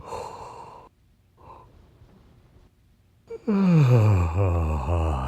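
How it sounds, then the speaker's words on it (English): A drawn-out yawn and breathy sighs, then a loud, voiced yawn that rises and falls in pitch, close to the microphone. "Okay, keep going with your yawns."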